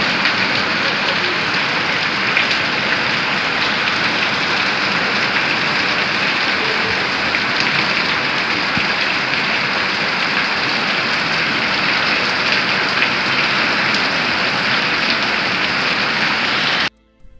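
Steady heavy rain pattering on surfaces outdoors, a dense even hiss that stays loud and constant for the whole stretch before cutting off abruptly at the end.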